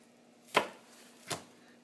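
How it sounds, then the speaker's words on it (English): Two sharp knife chops through an onion on a cutting board, close and crisp, spaced under a second apart, with quiet around them. "So I'm going to cut off most of the white part of the onion"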